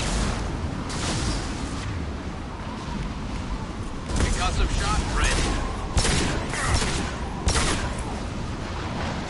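Gunfire in the video game Mass Effect 2 Legendary Edition comes as a dense, loud fusillade of shots and booming impacts, with several sharper bursts standing out, mixed with a voice talking over the combat.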